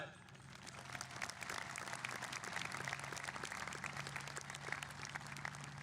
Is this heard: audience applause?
yes